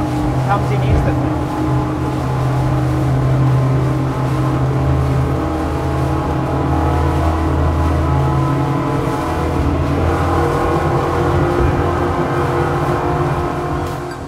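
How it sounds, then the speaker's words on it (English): Twin Yamaha 425 outboard engines on a Contender 44 ST motorboat roar steadily throughout, a loud continuous low drone with rising pitch as they accelerate. "Power from these Yamaha's 425, you can really feel it."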